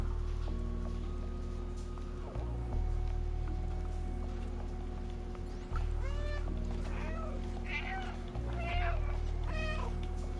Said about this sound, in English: maybe I can meow him